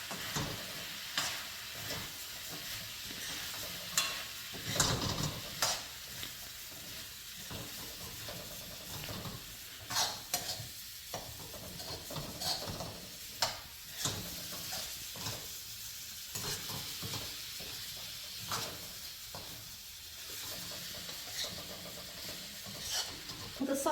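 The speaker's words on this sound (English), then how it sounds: "Give everything a good mix." Pumpkin sabji being stirred in a pan, a soft sizzle with irregular scraping and clattering strokes of a spoon, fairly quiet and close, no talking.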